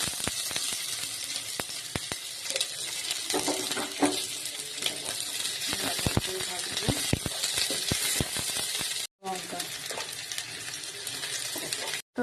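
Onion sizzles in hot oil in a pan for a mustard greens dish, a soft, steady hiss broken by scattered clicks and scrapes of a spoon stirring, with a short gap partway through.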